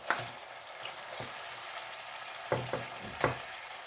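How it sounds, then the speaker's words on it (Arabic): Beef pieces frying in a tomato sauce for Tunisian pasta, a soft steady sizzle with a few sharp stirring clatters and pops, close and moderately quiet. "هوني باش نحط لي طرونش نتاع الفياند نتاعي"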